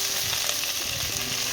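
Raw onion sizzling in hot oil with ginger, garlic and chillies, a dense continuous hiss and crackle, close and steady with no talking.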